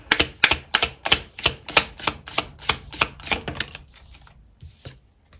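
Tarot cards are shuffled and drawn, a rapid series of sharp close riffling slaps in an even rhythm that slows and thins out into a few softer shuffles and a final flick.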